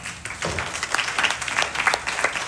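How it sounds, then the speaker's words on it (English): Audience applause at a youth yajna at Shri Trimurti Bhavan, a steady patter of many hands clapping with sharper individual claps rising out of it. "Please give a round of applause for them."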